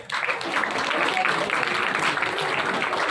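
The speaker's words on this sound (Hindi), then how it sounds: "इनके लिए जोरदार तालियां" Loud, steady applause from a school audience during a motivational lecture at an Urdu school, a dense continuous wash of clapping filling the whole stretch with a faint voice underneath.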